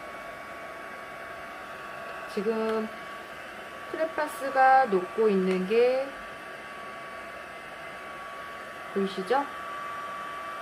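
A hair dryer blows on homemade crayons in a steady, even whoosh with a constant hum, while someone talks in brief phrases over it.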